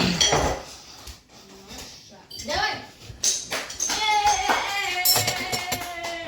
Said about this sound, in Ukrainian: Будемо посуду мити.